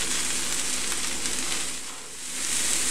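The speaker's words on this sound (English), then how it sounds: "you want to cook this on high heat because you want to cook the Brussels sprouts quickly while having them get a nice caramelization on them" Brussels sprouts frying on high heat in a pan give a steady, hissing sizzle that holds close and fairly loud throughout, dipping briefly before swelling again, with no talking.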